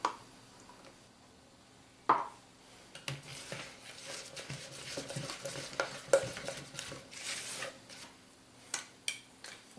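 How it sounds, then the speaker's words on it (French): Egg whites whisked by hand in a bowl for tiramisu eclairs: irregular clinking taps and scraping strokes of a whisk against the bowl, fairly close and moderate in level, with no talking. "On va monter notre blanc en neige"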